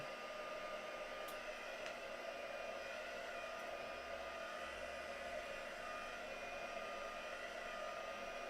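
A heat gun blows steadily over embossed craft paper, drying it: an unbroken, even roar of hot air that holds at one level throughout, with a couple of faint clicks and no talking.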